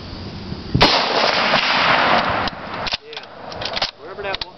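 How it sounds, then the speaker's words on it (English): L1A1 rifle shots fired at the base of a tree outdoors, a loud sharp report followed by a long rolling echo and a second fainter crack, with people talking afterward. "You still shooting at the base of it?"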